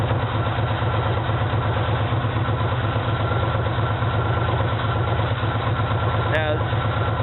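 A 2004 Yamaha Warrior ATV engine idles with a steady, throbbing, uneven pulse, staying at the same close, even level throughout, with a brief squeak near the end.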